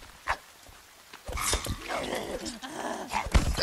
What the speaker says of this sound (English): That's some kind of dog.